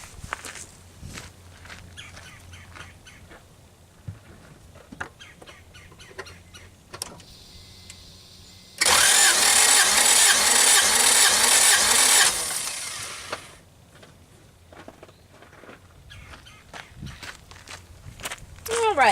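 Acura Integra engine cranking during a cylinder compression test, a loud, steady starter-motor whir lasting about four seconds, framed by quieter handling sounds and clicks, with a person talking before and after.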